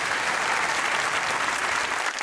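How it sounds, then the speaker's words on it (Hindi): A TV talk show studio audience bursts into steady, full applause that runs unbroken for a couple of seconds. "तालियां होनी चाहिए भाई"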